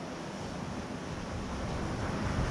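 Steady wind roar buffeting the microphone over a broad wash of choppy, whitecapped water sloshing, continuous and fairly close, with no voices.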